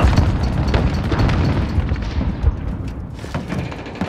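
Grenade blast in the video game Call of Duty Modern Warfare, a loud booming explosion with rumbling debris and scattered gunfire filling the battle scene.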